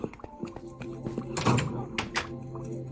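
A door opening in the video game Minecraft, heard as a few short hollow thunks and clicks, with quieter game sounds and a brief burst of noise around the middle.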